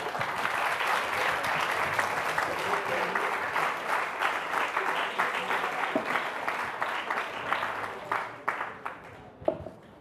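An audience at the Siamo Europa 2018 event applauds in a sustained round of clapping that holds steady, then thins into scattered individual claps before fading out.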